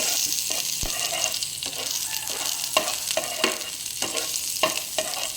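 Onion sizzling in a hot pan, a steady frying hiss broken by repeated soft knocks and scrapes of stirring, close by and without speech.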